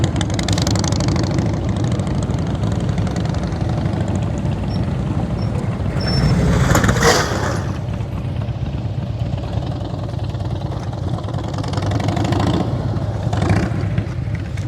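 Motorcycle engine idling steadily while a rider practices slow-speed U-turns on a course, a continuous low rumble throughout with a slightly louder swell midway and again near the end, no talking.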